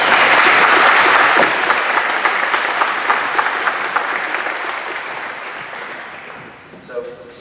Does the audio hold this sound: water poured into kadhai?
no